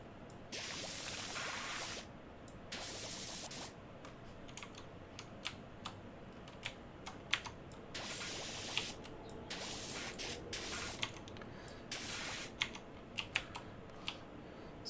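Pressure washer spraying metal cleaner in the game Power Wash Simulator, a steady hissing spray in repeated bursts of a second or two, with scattered clicks and taps between them.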